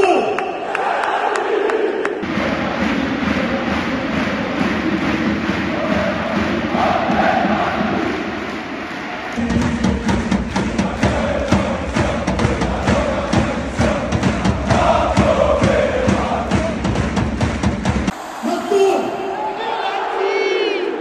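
A large football crowd at the Parc des Princes applauds and cheers Verratti's farewell, a dense roar of clapping that fills the stadium, swelling loud in two long stretches with a brief lull between.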